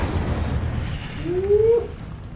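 Incendio fire spell cast in the video game Hogwarts Legacy: a rumbling, whooshing burst with a rising whistling sweep that swells to a peak and then fades.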